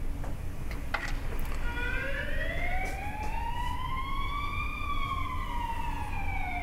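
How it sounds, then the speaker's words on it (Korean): A wailing siren sweeps slowly up and down, its rising and falling tone played steadily through a phone speaker with a faint hum beneath. "방금은 이제 저희가 핸드폰으로 사이렌 소리를 틀어봤는데요"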